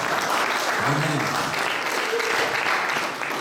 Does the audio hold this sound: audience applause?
yes